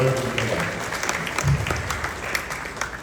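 An audience at a middle school 8th grade graduation claps steadily, a dense, even round of applause from a crowd indoors, with voices mixed in.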